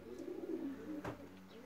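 A racing pigeon coos in a low, rolling warble at the loft after a 349 km race from Wyszkow, one short phrase with a brief brighter call near the end.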